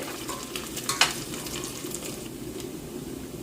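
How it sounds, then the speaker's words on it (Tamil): Onions sauté in a pan with a soft, steady sizzle and a brief scrape of stirring near the start, heard close and fairly quiet, with no talk. "வெங்காயமும் நல்லா வதங்கி வந்துட்டு"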